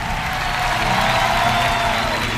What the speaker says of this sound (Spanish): ¡Un aplauso bien, bien fuerte!